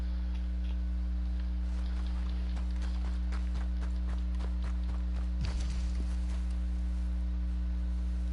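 Horse hooves clip-clop at a walking pace in the Red Dead Redemption 2 video game, quiet and regular over a steady low game hum, with one brief louder scrape midway.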